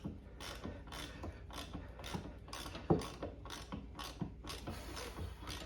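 An extractor socket on a ratchet works a seized brake line fitting on a Jeep Grand Cherokee: a steady series of crisp, close clicking ratchet strokes, about two per second, with one sharper metallic knock midway.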